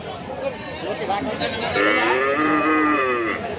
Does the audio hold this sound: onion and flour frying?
no